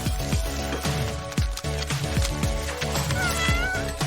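A cat meows repeatedly in short, rising cries at a steady rhythm, loud and close, with a squeakier meow near the end.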